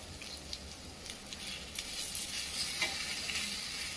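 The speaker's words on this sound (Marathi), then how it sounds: "आता हे सगळं साहित्य व्यवस्थित परतून घेऊया" Chopped onion and half a tomato sauté in a pan with garlic cloves, giving a soft, steady sizzle with faint crackles and stirring scrapes, quiet and close, with no talking.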